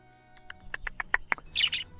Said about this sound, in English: Oh, I love budgerigars. Little cockatiels, peach-faced cockatiels.